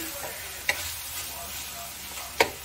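Pork frying with garlic and onion in a pan, a soft steady sizzle running throughout, broken by two sharp clinks of a spatula against the pan, close and alone without talk.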